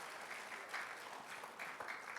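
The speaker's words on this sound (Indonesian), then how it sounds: "Mari kita beri tepuk tangan Bapak Ibu Saudara." Faint, steady applause from a church congregation at a Christmas celebration in Surabaya, a soft continuous patter of many hands that lasts the whole short stretch.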